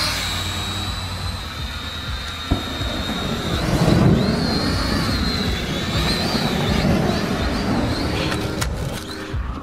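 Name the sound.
small toy drone flying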